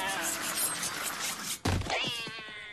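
Cartoon cat with wild, evil-looking eyes gives a couple of close, loud meows and a drawn-out yowl after a short sharp knock, in an animated comedy scene.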